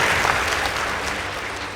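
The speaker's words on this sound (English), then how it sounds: "Let's give them a round of applause." An audience at a school debate between St Lucy's Kiriri and Mwiki Secondary School applauds the winning team, dense steady clapping from many hands throughout, loud and close.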